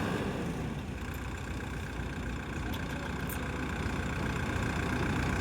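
A tractor engine idles outdoors, a steady low rumbling drone that holds evenly throughout with no talking.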